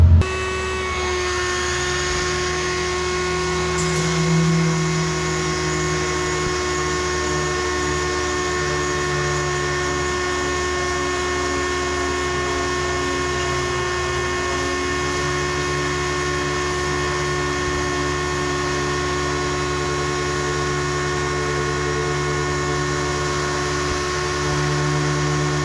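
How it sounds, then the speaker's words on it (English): A random orbital sander fitted with 80 grit runs on a boat hull, a loud steady motor whine and drone that holds for the whole stretch with slight shifts in pitch as it presses against the surface. "We're going to start with the random orbital sander."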